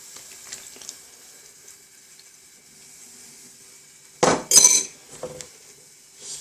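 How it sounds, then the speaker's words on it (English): Marinated meat going into a pot of bubbling hot and sour soup, a quiet simmer followed by a sudden loud splash and sizzle burst as the meat drops in, then a brief metallic clink. "So what I'm going to do is add in the marinated meat."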